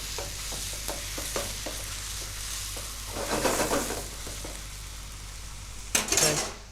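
Timpana filling of mince cooking in a pan, with a steady low sizzle and repeated scraping and stirring strokes of a utensil against the pan, growing louder in a few busier bursts.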